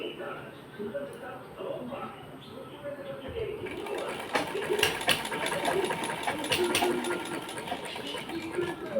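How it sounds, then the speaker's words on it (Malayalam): A sewing machine stitches a trouser crotch seam, running in a steady mechanical whir that grows louder and busier partway through, with no one talking. "അങ്ങനെ രണ്ട് രണ്ട് പ്രാവശ്യം നമ്മൾ അവിടെ നിന്ന് സ്റ്റിച്ച് ചെയ്ത് കൊടുക്കട്ടോ"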